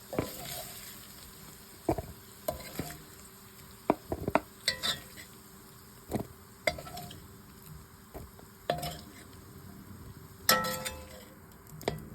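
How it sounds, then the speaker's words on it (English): Metal utensil scraping and clinking against a pot while browned beef is lifted out for goulash, with a faint sizzle underneath and irregular sharp knocks spread across the clip. "now that my beef is well browned, I'm just going to remove it from my pot"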